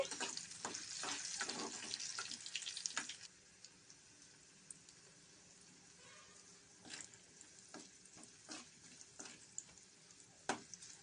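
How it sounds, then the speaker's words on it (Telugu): Ginger frying in a pan for chutney gives a soft sizzle with small crackles and taps, denser and louder at first, then quieter with scattered pops and stirring clicks. "అల్లం బ్రౌన్ కలర్లో బాగా వేగాలి"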